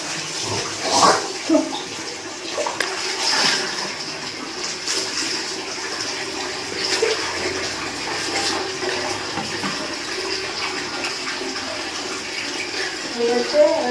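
Water splashed onto the body while washing, uneven sloshes and pours with dripping in between, heard close in a small room, with some speech.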